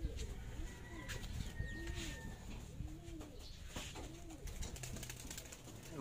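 Racing pigeons coo in repeated soft, low rolling calls at a loft during a derby race in Pampanga, several birds overlapping against steady background noise.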